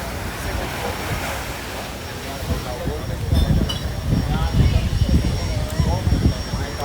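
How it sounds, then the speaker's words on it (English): A KLM jet airliner from Amsterdam comes in to land at Maho Beach, St Martin, a steady roar that swells toward the end, with people talking over it throughout. "I think this is the KLM flight from Amsterdam coming in here."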